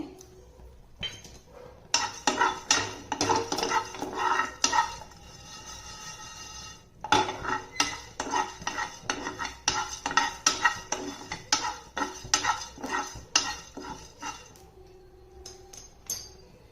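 Half a spoon of cumin seeds tossed into a pan and stirred for a hitikida avarebele curry: rapid, rhythmic metallic clinks and scrapes of a spoon against the pan, close and lively, with a brief lull partway through.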